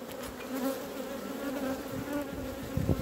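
Agitated honeybees buzz around an open hive, a steady, close, droning hum with shifting pitch and occasional louder passes, no voices over it.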